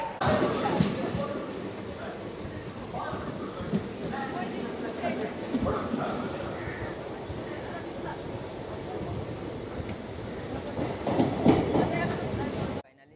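The Santragachi SF Express rolls along at speed, a loud, continuous rumble with rhythmic clickety-clack of wheels over rail joints, heard from inside the carriage with people talking over it.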